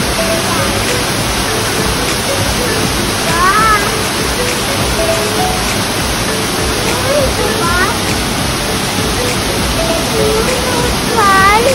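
Water flows steadily at a pond in the Orchidarium Estepona orchid garden, a continuous close rushing wash with a few bird chirps over it and faint voices in the background.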